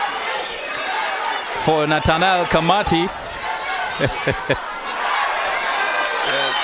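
A crowd roars and murmurs steadily through a boxing match at the Welter Country Club Hall in Windhoek, with a loud commentator talking over it throughout.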